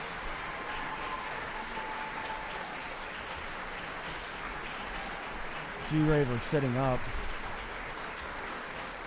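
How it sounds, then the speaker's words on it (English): Applause from a wrestling crowd carries on as a steady background roar beneath a commentator's voice, with a brief louder vocal burst partway through. "You hear the applause."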